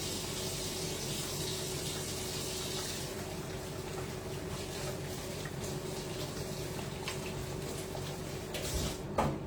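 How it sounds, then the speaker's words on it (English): A kitchen tap runs steadily while hands are washed, a continuous rush of water that stays even and close, ending with a brief knock near the end. "And I'm gonna wash my hands."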